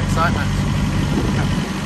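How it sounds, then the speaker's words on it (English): Sailboat engine running steadily after being bled, a continuous low rumble throughout with voices talking over it. "That's the sound of a running engine."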